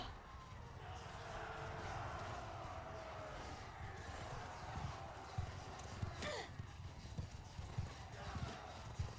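Horse archers gallop in Mount and Blade Bannerlord 2, a dense, continuous clatter of many hooves in game battle noise, with a whinny rising briefly near the end and scattered impacts over the din.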